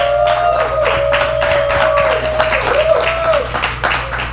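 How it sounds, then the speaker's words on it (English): A studio audience claps in a steady wash of applause while a sustained tone runs underneath, with a low hum throughout. "Give everybody a big round of applause."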